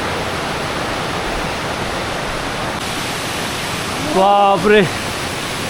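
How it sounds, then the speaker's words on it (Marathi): The Bahubali waterfall, a hidden monsoon waterfall in Sindhudurg in the Konkan region, pours as a steady, full roar of rushing water from start to finish. Near the end a man briefly exclaims over it. "बाहुबली वॉटरफॉल आहे, बाहुबली"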